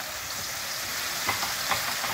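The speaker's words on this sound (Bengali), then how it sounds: "এই অবস্থায় আমি মাছগুলোকে ছাড়ছি, এখানেই ভাজা ভাজা হবে।" Fish pieces fry in oil with half-softened tomato and no water added, giving a steady close sizzle with small crackles and stirring scrapes, and no talking.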